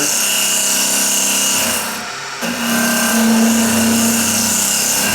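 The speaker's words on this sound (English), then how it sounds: "we're ready to start hollowing the inside out. I already drilled it. So I've got the AR90 here" A hollowing tool (AR90) cuts the inside of a pre-drilled ash maple bowl spinning on a wood lathe, giving a steady loud scraping rasp with a strong hum, a brief dip about halfway through, then the cut resumes.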